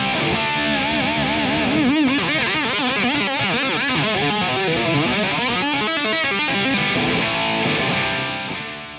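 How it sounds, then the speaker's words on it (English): Keipro KS-Custom Premium S superstrat electric guitar played through distortion and effects, a continuous run of bending, vibrato-laden lead lines over sustained chords, loud and upfront with no talking. "we will take a look and a listen at this, the Keipro KS Custom Premium S"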